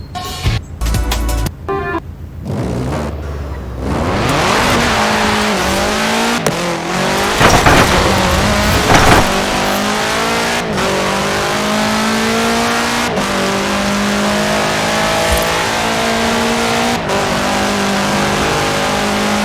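A 1966 Volkswagen Beetle fitted with a 2.5-liter flat-four turbo engine in a racing video game, revving hard with tire squeal, then sustaining a loud, steady high-revving engine roar.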